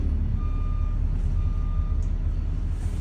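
An air-brake passenger bus in reverse sounds its backup alarm in steady, evenly spaced electronic beeps over a loud continuous engine idle rumble.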